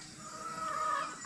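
Free-roaming chickens in a garden give a brief, moderately close call, a short drawn-out clucking cry heard alone.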